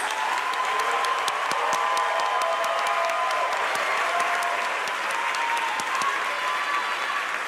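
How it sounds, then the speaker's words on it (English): Loud, sustained applause from a large audience at a dance recital, steady clapping filling the whole stretch without a break. "Let's give them one more big round of applause."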